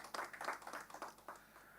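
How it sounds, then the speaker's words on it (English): Scattered handclapping from an audience at a company's annual general meeting, a committee-report session, quick irregular claps of moderate level fading off toward the end of the short burst. "Can we give them a round of applause for that"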